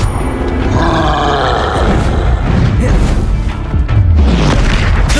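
A Confringo blasting spell explodes in the video game Hogwarts Legacy, a loud booming blast with crashing debris and grunting creature noises amid continuous battle din.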